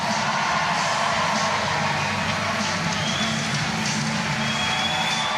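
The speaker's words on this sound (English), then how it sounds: "Each of these competitors taking their moment to hear the roar of the crowd." Steady crowd roar at a celebrity wheelchair rugby match at the Invictus Games 2018, a dense continuous wash of cheering voices filling the arena throughout.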